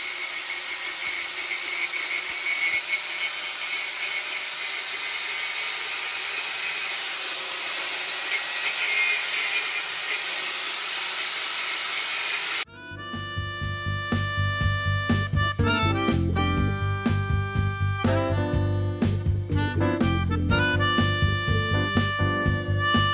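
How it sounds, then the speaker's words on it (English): A grinder cuts a bare spot into metal to clamp a welder's ground: a loud, steady, hissing whine runs unbroken for about half the span, then stops abruptly and music takes over. "Now I gotta grind me off a spot for my ground to go"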